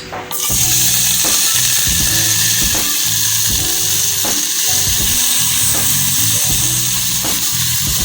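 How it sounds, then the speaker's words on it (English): Vegetables sizzle steadily in hot oil, a constant bright hiss with occasional clacks of a utensil against the pan, close and loud. "We want to hear that nice sizzle."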